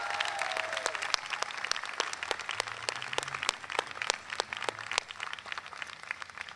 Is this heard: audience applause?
yes